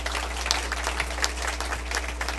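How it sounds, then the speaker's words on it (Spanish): Steady applause from an audience at an evening forum on oil production, refining, natural gas and petrochemicals, honouring an engineer before his talk; dense, even clapping at moderate distance over a low hum. "debemos darle un fuerte aplauso al ingeniero Jorge Benigno"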